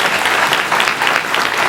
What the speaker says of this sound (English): another round of applause for y'all